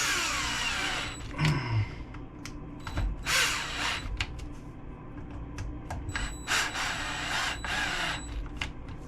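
A cordless drill drives screws during a rebuild of an Arrma Limitless RC car, with short whirring bursts repeated several times, separated by clicks and handling noises, fairly close.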